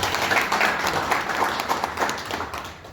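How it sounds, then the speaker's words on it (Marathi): An audience at a training gathering gives steady, moderately loud applause for someone speaker, with many overlapping claps sustained for the whole stretch and no clear talking. "मॅडमचं एक टाळ्या वाजवून अभिनंदन करूया."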